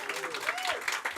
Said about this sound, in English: Another round of applause for Robin Michel.